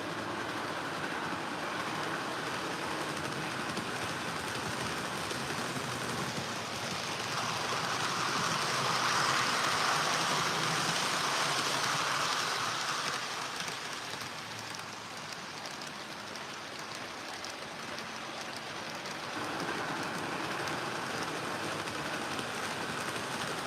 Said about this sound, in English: I know it's an express diesel train